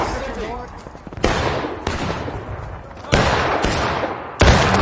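Musket volleys in the Civil War video game War of Rights crack out as several loud, overlapping bursts amid distant battle rumble.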